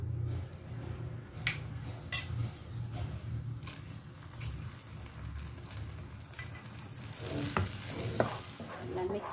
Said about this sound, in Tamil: இப்போ இந்த வறுத்ததை நம்மளோட உளுந்தங்கஞ்சில் சேர்த்துடலாம்